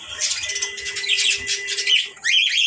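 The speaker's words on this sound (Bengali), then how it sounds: "দেখেন ককাটেল পাখি।" A caged cockatiel squawks in harsh, bright bursts, loud and close, a long rasping call followed by a shorter one after a brief gap, with a faint steady tone in the background and no speech.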